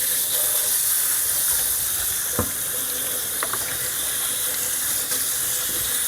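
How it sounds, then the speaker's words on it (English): Running water from a tap rinses the lint screen of a GE Profile 4.8 cu. ft. UltraFast electric washer-dryer combo, a steady broad hiss close by, with a couple of faint clicks and knocks of handling. "and then you just rinse it off"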